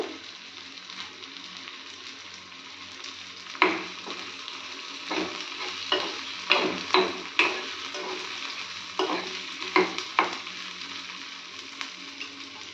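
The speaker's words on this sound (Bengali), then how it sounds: "এবার এখানে আমি পেঁয়াজটা দিয়ে দেব।" Onion frying in a pan for chilli paneer, with a steady sizzle and repeated scraping stirs of a spatula, close and fairly quiet with no talk.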